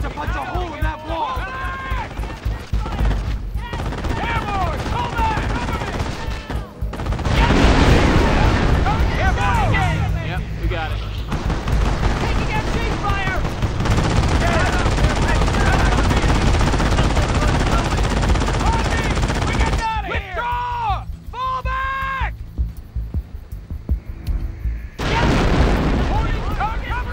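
Sustained machine gun fire, including an MG-42 firing from a guard tower, mixes with booming explosions in the Company of Heroes video game, loud and nearly continuous, with soldiers' voices shouting over the battle.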